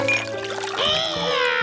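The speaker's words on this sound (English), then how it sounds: "He had bad luck with pouring" Cartoon water pours in a kitchen scene, a bright gurgling trickle with rising, ringing tones that swell and fade over about a second, with no speech.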